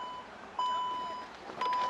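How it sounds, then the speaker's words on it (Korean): Warning beeps from a 2019 Jeep Cherokee before its power tailgate closes: two clear electronic tones, a long steady beep followed by a second after a short gap, heard near over a faint background hum. "경보음이 울린 다음에 이렇게 내려가죠"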